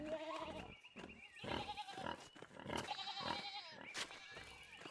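A small herd of goats in the video game Pentiment gives a run of loud, overlapping bleats, some drawn out and quavering, with brief pauses between calls.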